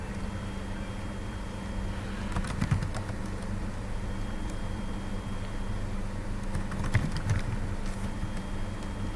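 Quiet keyboard typing while entering data into a table in Microsoft Word, two small bursts of keystrokes rising briefly over a steady low hum.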